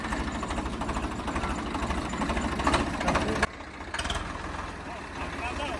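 A Swraj 855 tractor engine idles with a steady low throbbing chug, close by. It drops quieter partway through and then carries on, with people talking over it.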